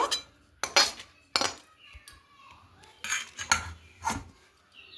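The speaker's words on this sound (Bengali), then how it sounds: "তো চলুন থালাতে এবার নামিয়ে নেব।" A metal spoon scrapes and knocks against a wok as rice flour dough is moved onto a plate, giving a series of close, sharp clinks and scrapes at an uneven rhythm.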